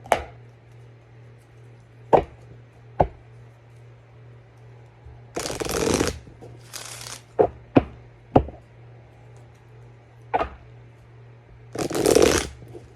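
Oracle cards with a fairy-dust theme being shuffled in a few short riffling bursts, spaced between sharp taps and knocks of the deck on a table, close and fairly loud over a low steady hum.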